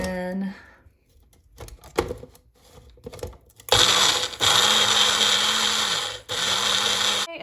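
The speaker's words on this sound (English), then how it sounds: "And then you mix this up in a blender." After some clicking and handling noises, a blender whirs loudly in several bursts, its motor briefly stopping and restarting.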